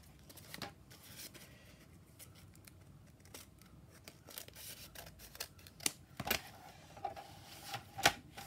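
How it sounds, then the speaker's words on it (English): Scissors snip along a paper edge for a junk journal, a string of quiet, close, crisp cuts that grow sharper and louder toward the end, with no talking. "I have to cut that edge"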